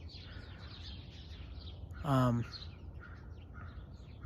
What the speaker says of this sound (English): These birds are out here really chirping.